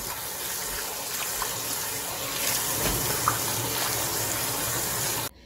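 Mustard greens are washed under running water, with a steady close gush from a tap into a basin and light splashes and rustling of the leaves, ending abruptly.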